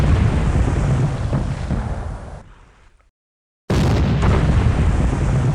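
Torpedoes exploding against warships in War in Spain, a loud rumbling blast that fades into near silence, then a second heavy explosion bursts in abruptly.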